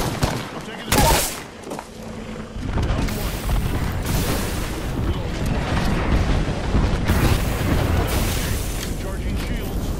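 Airstrike explosions in the Apex Legends video game, with a sharp burst early on followed by sustained rumbling booms and crackling fire, loud and continuous, with voices faintly mixed in.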